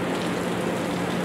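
Steady rain pours outdoors beside a railway where a train is being photographed on a journey toward Aizu-Wakamatsu, making a dense, even hiss with no break or rhythm and no voices.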